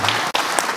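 Brief burst of audience applause at a university lecture, steady clapping from the room with a momentary dip partway through.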